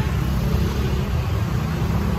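Rush-hour road traffic rumbles as a dense, steady wash of engines and tire noise, loud and close without any clear break or single passing vehicle.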